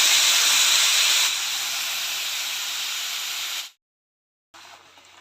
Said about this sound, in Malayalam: മിക്സിയിൽ അരച്ച് വെച്ച ആ ഒരു അരപ്പ് ഇതിലോട്ട് ഒഴിച്ചു കൊടുക്കാം.